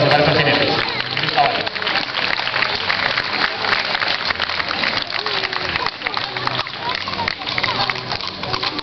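Audience clapping for mounted National Police riders at a horse exhibition in Madrid, a dense, continuous wash of applause from a crowd filling the whole stretch.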